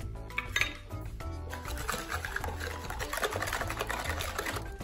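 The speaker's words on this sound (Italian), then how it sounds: "Mescoliamo per prima lo zucchero insieme alle uova" Sugar and whole eggs are beaten together in a bowl for pancake batter, giving a busy, continuous whirring churn with rattling clinks against the bowl, close and steady throughout with no one talking.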